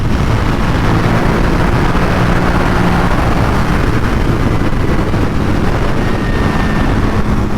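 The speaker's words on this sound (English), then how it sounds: "Really lovely engine. That pulls great." A Buell Hammerhead 1190 motorcycle on the move gives a loud, steady engine drone mixed with rushing wind, unbroken from start to finish.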